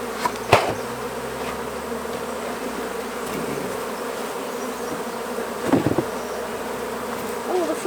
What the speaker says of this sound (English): All the flying bees are coming back